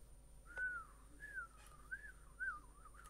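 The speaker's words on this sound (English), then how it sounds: "I can't whistle. I've never been able to whistle." A person who cannot really whistle attempts a faint, wavering whistle, a few breathy rising and falling notes with gaps between them, alone and quiet.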